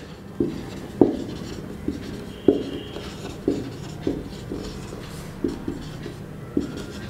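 Chalk or marker strokes on a board during a set-theory lecture come as a series of sharp taps and short scrapes, about a dozen irregular strokes, close and clear with no talking.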